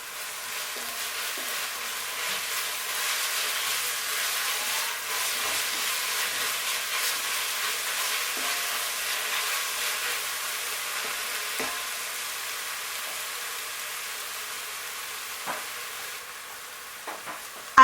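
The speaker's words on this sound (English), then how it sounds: "Add your spring onions and continue to stir." Spring onions are stirred into a pan of Njangsa sauce, giving a steady, bright sizzle and hiss that holds at an even level with faint occasional clicks, close and alone without talk.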